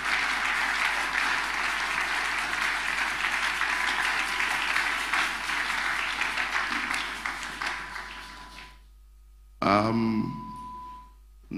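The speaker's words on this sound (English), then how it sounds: "If you're clapping for Jesus, you can do better." A church audience gives long, loud, sustained applause that dies away near the end, followed by a short burst of voice.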